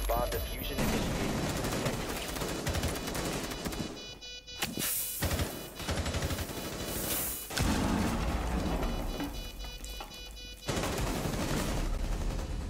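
Bursts of automatic rifle fire and loud explosive booms in the video game Rainbow Six Siege, dense and close with short pauses between volleys, while players talk excitedly over the shooting.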